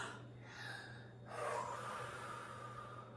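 A close, quiet deep breath is drawn in sharply and then blown out in a long, breathy exhale.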